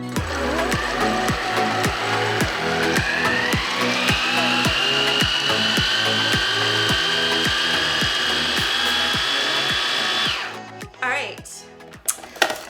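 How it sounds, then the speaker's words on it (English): Food processor whirring as it blends vegan basil pesto ingredients with nutritional yeast into a paste, a loud steady motor drone with rhythmic chopping clatter that stops near the end. "Put it into my food processor. I'm gonna just mix all of this up just to start making the paste."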